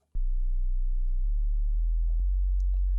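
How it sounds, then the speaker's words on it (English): A pure, low sine-wave synthesizer tone plays as deep sub-bass, steady and smooth, stepping down in pitch a few times with faint clicks at each note change, heard alone without talk. "Sine waves are often used for deep sub-bass type sounds"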